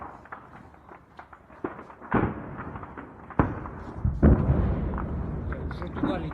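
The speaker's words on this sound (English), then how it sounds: "You hear the firefights out there right down this hill." Gunfire and explosions from a firefight in a Donetsk suburb echo up from down a hill, arriving as sharp, irregular cracks and heavier booms over a constant rumbling background, with the loudest blasts landing midway and near the end.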